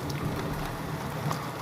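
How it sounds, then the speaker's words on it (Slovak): Steady rain pours down during a strong thunderstorm in Slovakia, heard through an open window as a continuous dense hiss and patter, fairly loud and close, with no voices. "ja mám okno otvorené pre istotu. A to je taká časť, že ako to prší."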